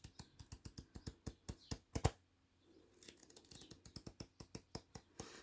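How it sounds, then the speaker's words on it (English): Rapid, regular light clicks and snaps of oracle cards being shuffled, close and crisp, with a brief pause midway before the rhythm resumes. "I will give these cards a bit of a shuffle"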